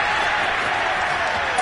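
A stadium crowd at an NFL game between the Falcons and Raiders roars and applauds after a big play, a dense, even wash of cheering that stays loud throughout with no break.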